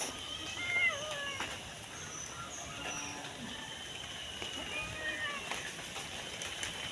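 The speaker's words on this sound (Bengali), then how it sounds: "এটি হলো আমাদের বিড়াল সে খুব চেঁচাচ্ছে কারণ ভয় করছে" A frightened cat yowls and meows repeatedly in drawn-out, wavering cries during a rainstorm, over a soft background hiss, with some faint voices nearby.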